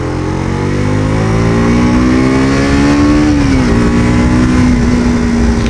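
A 2022 KTM RC 125 sport motorcycle with a 125 cc engine accelerates hard, its loud, close, buzzing engine note climbing steadily in pitch, dipping briefly at a gear shift, then rising again.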